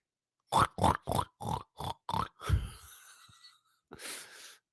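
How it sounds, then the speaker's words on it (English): A pig grunts in a quick series of six short, snorting bursts, close and fairly loud, followed by a longer breathy snort and a final rough grunt after a pause. "There's Mr. Piggy"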